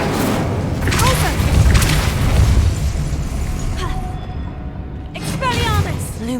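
Incendio fire spell cast in Hogwarts Legacy, producing several loud whooshing bursts and booming thumps with crackling flare-ups, interspersed with bright chiming magical tones over steady game background noise; a voice speaks briefly.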